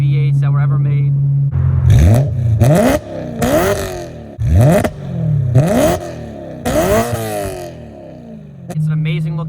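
A BMW E92 M3 with its V8 engine revved repeatedly from idle, several sharp climbing blips with drops back in between, loud and close, settling to a steady idle at both ends.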